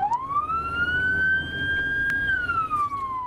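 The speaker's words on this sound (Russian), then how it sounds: "пропускают ли казанские водители скорую с сиреной и проблесковым маячком" A single loud ambulance siren wails, rising and falling in a slow sweep as the emergency vehicle moves through city traffic in Kazan.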